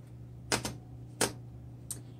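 A 1962 Royal Heritage III manual typewriter clacks out four sharp keystrokes at an uneven, slow pace. The strikes are close and crisp over a quiet steady hum, with no talking.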